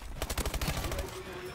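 Rapid automatic gunfire from a futuristic rifle in a Call of Duty: Advanced Warfare team deathmatch, a dense burst of close, punchy shots lasting about a second before fading into a softer tail.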